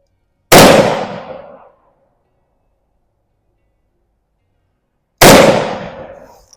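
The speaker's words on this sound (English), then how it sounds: "let's put a couple of shots on the splatter burst" Two sharp, loud shots from a Zastava M59/66 SKS 7.62x39 rifle crack out at an outdoor range several seconds apart, each one trailing off in a long echo.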